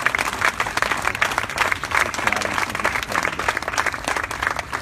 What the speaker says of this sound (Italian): io chiederei un grande applauso al Fanta Festival